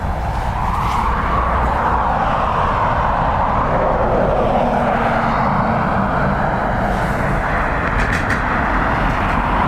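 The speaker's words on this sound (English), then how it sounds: "Next up is a 737 operated by Ryanair, coming in from Stansted, I believe, 737-800." Ryanair Boeing 737-800 arriving at Dublin Airport from Stansted, a loud, close rushing jet roar that swells through the middle and holds steady to the end, no talk.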